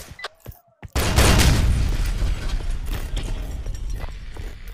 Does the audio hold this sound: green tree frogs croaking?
no